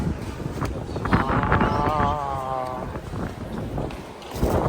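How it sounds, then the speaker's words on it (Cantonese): Strong wind buffets an observation deck of a tall tower in Warsaw, roaring steadily across the microphone with gusts, while a voice is briefly heard over it. "因為而家呢度好大風，好凍啊"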